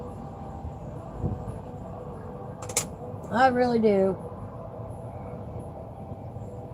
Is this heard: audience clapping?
no